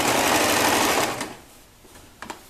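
A sewing machine runs a fast continuous stitch along a gathered child's skirt for about a second, then stops, leaving a quiet pause broken by a couple of short mechanical clicks.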